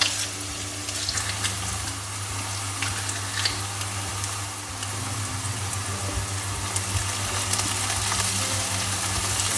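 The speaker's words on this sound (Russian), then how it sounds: "И все это нам нужно будет вместе обжарить." Vegetables with freshly pressed garlic sizzling in a frying pan, a steady close crackle and hiss running evenly throughout with no voices.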